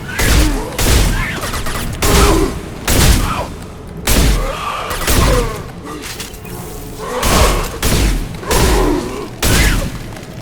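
Gunfire in the video game Mass Effect rings out as loud, repeated booming blasts roughly every second, heavy and close, with no clear speech over them.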